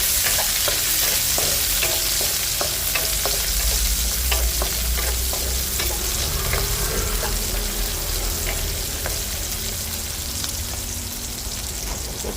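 Onions sizzle and fry steadily in a pan for a Filipino mackerel tinola, with a constant broad hiss and occasional stirring scrapes and clicks, close and loud throughout, no talking.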